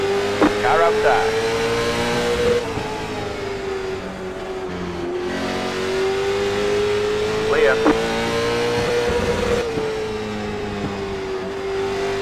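Late model stock race car engines drone steadily at Lanier National Speedway in iRacing, with pitch shifting as the cars rev and lift under continuous engine noise.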